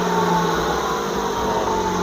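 A steady, even idle from a used car's engine with the air conditioning off hums on without a break, with a low rumble and no talking.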